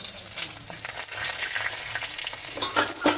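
Spices frying in mustard oil in a pan, a steady dense sizzle with faint stirring clicks throughout, close and fairly loud, no voices.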